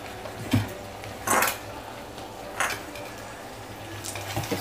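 A spoon stirs chili potato fingers in a metal pan, knocking against the side in a few separate clanks and scrapes spaced a second or so apart, close by over a quiet kitchen background.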